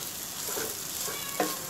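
Masala with coriander powder sautéing in oil in a pan, a steady close sizzle and crackle with a brief stirring scrape near the end and no talking.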